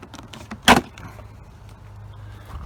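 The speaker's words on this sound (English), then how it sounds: "I'm sure this is going to fall down and just crash" A Subaru Outback's interior hatch trim panel drops and hits with one sharp, loud clatter, followed by quiet rustling and faint handling noise.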